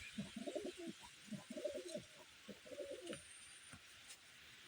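A flock of young pigeons coos in repeated soft, low bursts close by, the throaty calls clustering in short phrases with brief pauses between them.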